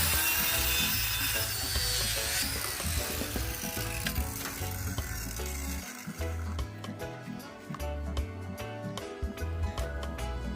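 A saw cuts a 2x4 wooden board to length for a fence repair, giving a continuous, dense, close rasp that shifts into rapid, regular strokes partway through, with no talking.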